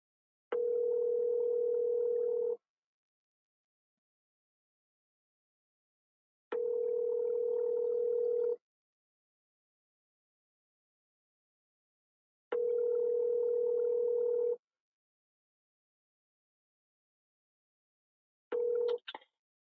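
Outgoing telephone call: a steady ringing tone sounds in long, even bursts separated by several seconds of silence, three full rings and the start of a fourth, clear and alone with no talk.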